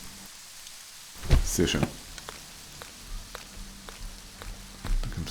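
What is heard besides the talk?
rain in the video game Green Project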